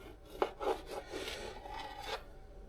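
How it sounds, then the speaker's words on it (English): A knife saws through a loaf of homemade bread, giving several short rasping strokes close by, fairly quiet, with no voices. "Cut us a couple slices."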